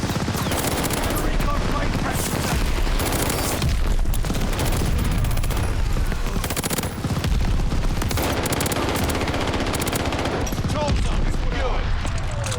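Dense, loud automatic rifle fire from the Nikita AVT in Call of Duty: Vanguard, continuous bursts with booming impacts and battlefield clutter filling the whole stretch, with a voice talking over the gunfire.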